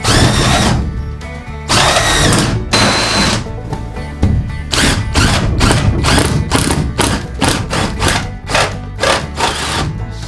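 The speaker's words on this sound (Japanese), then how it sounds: "スパイラルドリルでスパイラルしてきます" Loud power drill with a spiral drill bit cutting a hole in a truck camper shell bursts repeatedly, short whirring runs separated by brief pauses, close up with no talking.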